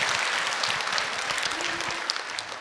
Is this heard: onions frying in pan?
no